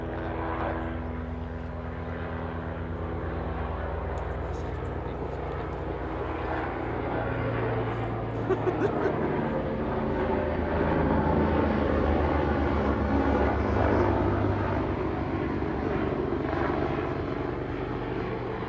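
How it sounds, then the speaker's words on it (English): A low, steady engine drone from a helicopter passing overhead, sustained and fairly loud throughout with a slight swell midway. "And that was legitimately a helicopter."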